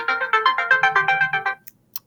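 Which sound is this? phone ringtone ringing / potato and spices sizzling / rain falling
phone ringtone ringing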